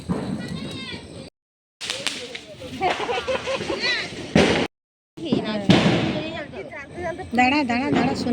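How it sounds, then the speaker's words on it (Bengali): Firecrackers and fireworks going off the day after Kali Puja at a village home, sharp bangs and crackles under excited chatter and voices, close and loud, broken by brief gaps. "আর এই যে এখন আমাদের বাজি ফাটানো শুরু হয়ে গেছে।"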